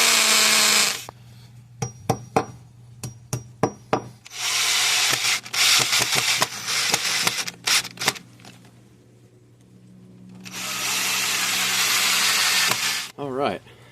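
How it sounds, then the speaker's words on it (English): A power drill bores holes for wall anchors in three loud, whining bursts of a few seconds each, separated by sharp taps and clicks and a low steady hum, heard close up. "I'll drill the holes, put the anchors in,"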